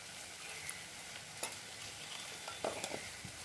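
Spice paste made with milk frying in oil in a pan, stirred now and then: a soft, steady sizzle with a few scraping clicks of the spoon, quiet and close, no talking.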